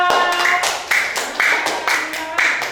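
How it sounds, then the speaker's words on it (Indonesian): Pupils in a fifth-grade classroom clap for a classmate in a quick rhythmic pattern, sharp bursts of hand claps repeating about every half second, close and fairly loud, with a voice present. "Tepuk tangan untuk Nanda Aska"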